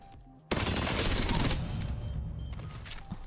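In Apex Legends, a weapon fires a sustained, loud automatic burst that cuts in abruptly and keeps rattling for a few seconds before tapering slightly, with no voices over it.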